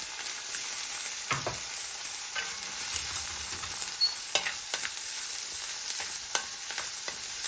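Green chillies and spices sauté in a pan for a cauliflower curry, a soft continuous sizzle with intermittent scraping taps as the mixture is stirred, close and fairly quiet.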